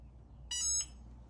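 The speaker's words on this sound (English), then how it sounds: "when it gets to the end and beeps, you're done" A sublimation mug press signals the end of its cycle with a single short, bright electronic beep, faint and alone against a quiet background hum.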